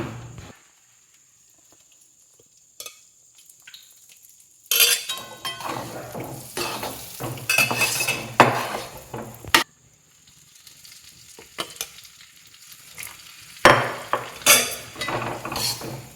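Besan gram flour being stirred and roasted with ghee in a pan for besan laddu, a spoon scraping and clinking against the pan with soft sizzling in intermittent bursts, quiet at first, then busier and closer.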